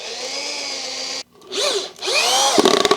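A power drill whines close up, stops briefly, then revs again with rising and falling pitch as it drives screws into wood, ending with rattling clicks.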